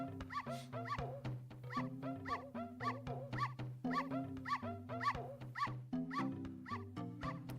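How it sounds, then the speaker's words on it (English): A pony in the video game Ocarina of Time Randomizer barking like a dog, a fast, steady run of close, yappy, whimpering barks repeating over and over in a game soundtrack loop. "The pony barks."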